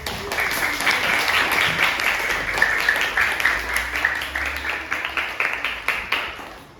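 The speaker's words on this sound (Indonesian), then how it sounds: "kalau betul beri tepuk tangan untuk kelompok 4" A classroom of students applauds a discussion group after its answer, a dense, steady patter of many hands that thins in the last seconds into a few separate, louder claps.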